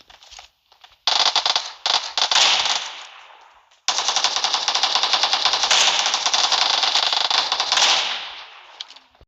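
Sustained automatic fire from an Uzi machine gun in a video game, a short burst followed by a long continuous loud rattle of rapid shots lasting several seconds, close and dominant with no talk.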